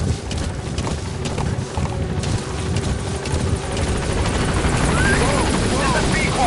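Support helicopter B-Quad approaches a landing zone in Metal Gear Solid V, a steady rotor roar and whine filling the scene with a faint radio voice beneath it.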